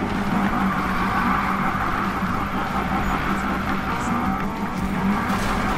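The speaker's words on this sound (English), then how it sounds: "I actually drift pretty well, so it's a front wheel drive." Acura RSX-R, a front-wheel-drive car, drifting in Need for Speed (2015), with a steady loud engine roar and a continuous tire-skid hiss running through the whole stretch, no talk over it.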